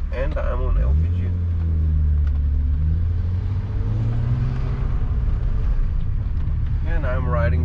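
BMW 320i E36 coupe with a 150 hp engine running on LPG in city traffic, a steady low rumble with mild revving throughout, close and continuous, and someone talks over it.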